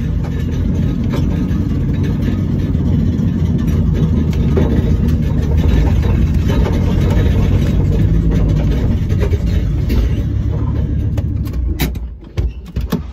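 A Volvo V70 T5 engine runs with its catalytic converter removed, a loud continuous rumbling idle and rev that fills the whole stretch before dropping off near the end.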